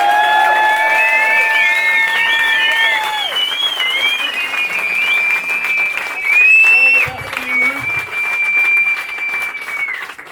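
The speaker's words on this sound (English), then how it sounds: "can we just give a big round of applause for that Ruth?" A room full of people at a 2019 Two Ball Rally 'Original Route' awards presentation applauds continuously and loudly, with scattered whoops and cheers rising over the clapping.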